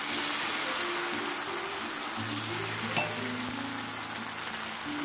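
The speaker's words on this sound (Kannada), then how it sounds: "ಇವಾಗ ಕಾವಲಿಗೆ ಎಣ್ಣೆ ಹಚ್ಕೊಂಡು ದೋಸೆ ಹಾಕ್ತಾ ಇದ್ದೀನಿ ನೋಡಿ" Oiled griddle sizzles steadily as thin neer dosa batter is poured, a continuous close hiss of frying with a faint tap near the middle and no talking.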